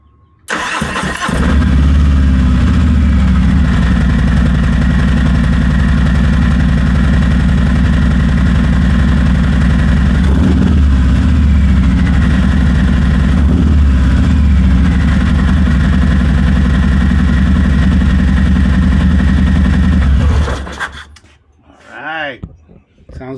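A 2023 Harley-Davidson Fat Bob Softail with a Vance & Hines intake fires up after a brief crank and settles into a loud, deep, steady rumbling idle with a couple of throttle blips before cutting off near the end.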